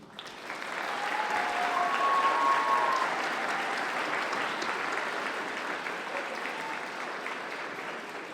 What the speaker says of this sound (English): please give a round of applause to your parents who are here today for all that they've done for you